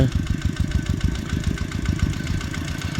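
A tractor idles in a rice field, its engine chugging with a fast, steady, uneven rumble close by, alone without any talking.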